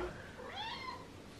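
A pet cat gives a single rising-and-falling meow, fairly close but soft, alongside faint human vocal sound.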